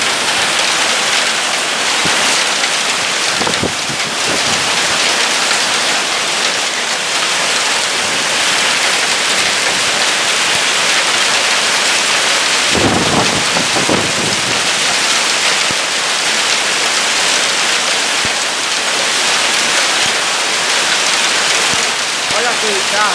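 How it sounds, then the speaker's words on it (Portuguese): Heavy rain with hail pours down over a backyard in São Paulo, a dense, constant hiss of water and ice striking surfaces close by, with a person talking intermittently over the downpour. "Olha a chuva em São Paulo agora."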